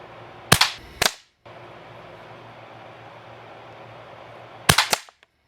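Benjamin 312 .22 air rifle firing RWS Superdome pellets: two sharp cracks about half a second apart, a pause of steady background hiss, then a third loud shot with a brief ringing tail.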